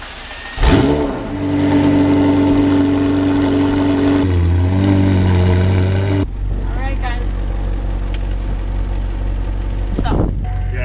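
A McLaren 720S engine runs loud and close, rising into revs then settling into a steady idle drone, with another throttle blip near the end.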